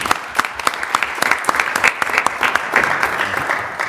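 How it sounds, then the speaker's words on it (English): Audience at a Lynn City Council meeting gives a round of applause, loud, close individual claps forming an uneven, steady patter throughout. "Let's give him a round of applause,"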